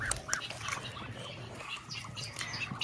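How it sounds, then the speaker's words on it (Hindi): Ducks quack and chatter close by as a shamo aseel chick squares off and fights with one of them, short scattered calls with scuffling and pattering over a low background. "ये तो फाइट कर रहा है डक के साथ"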